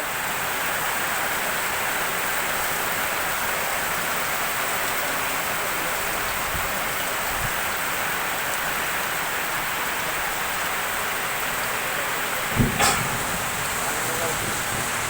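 Steady rain pours down over an open fairground corner in Hajipur during a stormy day, a continuous broadband hiss with no pauses, broken near the end by a brief low thump.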